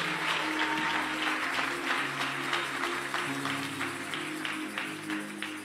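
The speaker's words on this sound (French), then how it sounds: "Est-ce qu'on peut très bien acclamer le Seigneur?" A church congregation at a prophetic worship service applauding the Lord: dense, continuous clapping from many hands, sustained throughout and tapering slightly toward the end.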